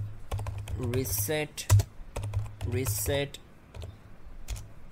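Keys typed on a computer keyboard while entering network reset commands on a Windows 11 PC, a run of close clicks and taps heard under a man's steady spoken instructions.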